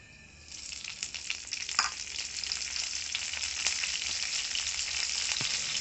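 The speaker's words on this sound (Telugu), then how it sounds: "వెంటనే కరివేపాకు రెబ్బలు వేసుకుందాం" Mustard seeds and curry leaves sizzle in hot oil for a drumstick leaf chutney tempering, a steady bright crackle that starts after a quiet moment and continues loud and close, with occasional sharper pops.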